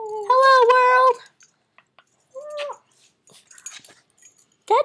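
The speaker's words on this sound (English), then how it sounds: "That's my puppy." A pet puppy gives a few short whimpers and yips at close range, with a long whine at the start and a brief yelp near the end, separated by quiet gaps.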